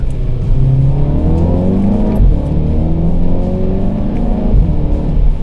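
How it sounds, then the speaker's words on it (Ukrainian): An Audi TT roadster's engine and exhaust note, partly played through the car's speakers, drones steadily from inside the cabin, rising and falling in pitch as the engine revs smoothly while driving. "вона, походу, фігачить вихлоп з колонок"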